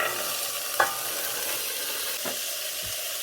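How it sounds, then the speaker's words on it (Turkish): Chickpeas go into a pot of frying meat and cumin for a Turkish bone-broth chickpea stew, with one soft clatter, then a steady sizzle and a few faint spoon scrapes as the mixture is stirred. "Şimdi nohut ekleyelim"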